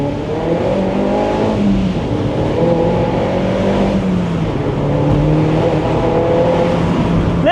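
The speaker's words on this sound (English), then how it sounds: "Little bit of wheel spin there, just traction control light coming on." A Mini Roadster JCW accelerates hard on a rain-wet road, its engine note climbing steadily and loudly through the revs as the tyres briefly spin and the traction control cuts in.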